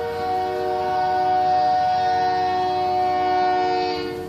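A train horn blows in one long, steady, loud blast with a rich stack of harmonic tones, held unbroken for several seconds before easing off slightly at the end, heard alone with no talking.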